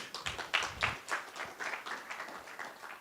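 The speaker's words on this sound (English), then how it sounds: "Yeah, we can applaud that" An audience at a conference talk breaks into brief, fairly quiet applause, scattered claps ringing out in an irregular patter that gradually thins.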